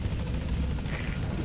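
Helicopter in the video game Metal Gear Solid V, a loud continuous rotor thrum with rapid chopping pulses, close and steady, with no voices.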